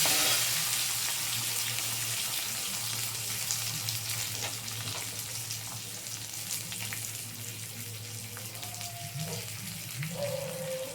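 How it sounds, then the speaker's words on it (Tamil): Grated coconut dry-roasting in a clay pot on a low flame for an eggplant masala fry, a steady close crackling sizzle with soft scraping of stirring and a faint low hum throughout. "ஒரு ரெண்டு சில் அளவுக்கு தேங்காய் சேர்த்து அதையும் நல்லா வறுத்துக்கலாம்"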